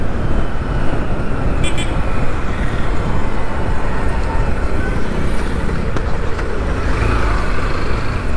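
Car engine under hard acceleration in third gear on a road, a steady loud broadband roar that holds constant throughout with road and wind noise mixed in.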